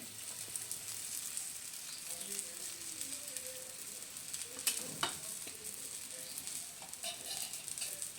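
A kada paratha cooks on a pan with ghee, a soft continuous sizzle and crackle close by, with a few faint clinks and a brief louder flare near the middle.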